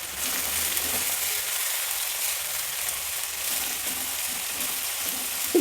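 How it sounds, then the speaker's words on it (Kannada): Chopped onion and dill leaves fry in a pan, giving a soft, steady sizzling hiss at moderate distance with faint occasional stirring, quiet and unbroken by voices. "ಇದನ್ನೀಗ ಚೆನ್ನಾಗಿ ಫ್ರೈ ಮಾಡಬೇಕು."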